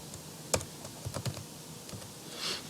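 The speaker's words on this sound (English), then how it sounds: "Oh my gosh, I can't type." Keys on a computer keyboard are typed in a few scattered, uneven taps and clacks, close and fairly quiet, with no talking.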